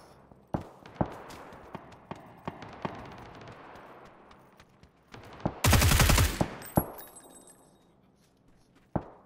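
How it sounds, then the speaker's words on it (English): Gunfire in PUBG, scattered single shots and short bursts at varying distances, with one loud, dense close burst near the middle and sharp isolated reports around it. "Lots of shooting up here."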